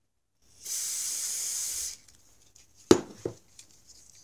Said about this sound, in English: I use silicone spray lubricant in a spray can.